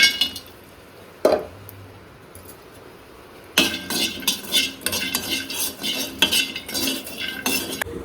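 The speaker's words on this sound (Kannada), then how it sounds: "ನೆಕ್ಸ್ಟ್ ವಾಲ್ನಟ್ನ ಹಾಕ್ತಾ ಇದ್ದೀನಿ. ಪಿಸ್ತಾನ ಹಾಕ್ತಾ ಇದ್ದೀನಿ." Walnuts and pistachios tipped into a container for a dry fruit powder, a brief rattle followed by a longer run of dense clattering and clinking as the nuts land and shift.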